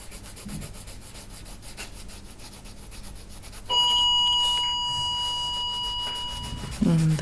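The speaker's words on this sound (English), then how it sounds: "And that's the doorbell." A doorbell chimes in with a clear, loud, sustained electronic tone, ringing out over a steady rubbing, scraping sound of pencil coloring that runs through the whole clip.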